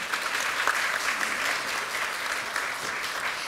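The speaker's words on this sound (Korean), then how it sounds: "박수 부탁드립니다." Sustained audience applause at a Democratic Party ceremony in Korea marking the 20th anniversary of the June 15 North–South Joint Declaration, dense steady clapping from a large crowd with no break.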